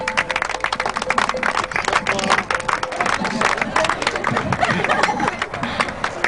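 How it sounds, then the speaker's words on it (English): A crowd claps and applauds at a company pancake race prize-giving, dense, loud and continuous, with chatter and voices mixed in throughout. "Big round of applause for Paul Stanweir for second."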